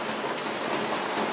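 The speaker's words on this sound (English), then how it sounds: "But you can hear the rain outside." Steady, hissing rain patters continuously outside, heard from a bathroom in Penang, Malaysia, a dense even wash of drops with no voices over it.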